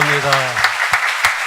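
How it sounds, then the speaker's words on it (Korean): A congregation at a Korean church Sunday service claps in a slow, steady rhythm of sharp, evenly spaced beats. A voice sings or speaks briefly over the first claps. "우리 박수 치면서 하나님께 찬송과 영광을 드리겠습니다."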